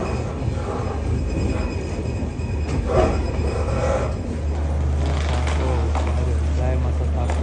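A train rumbles and rattles at a station on the way to Savarkundla, a continuous close mechanical drone with a steady low hum that strengthens later on, while people talk over it.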